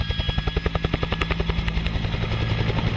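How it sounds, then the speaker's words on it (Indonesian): A toy helicopter gives off a close, rapid, rhythmic chopping of rotor sound that speeds up into a quick steady pulse, with no one talking over it. "Lihat teman-teman, ini helikopter."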